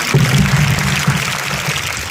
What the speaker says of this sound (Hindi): श्रद्धा के लिए तालियां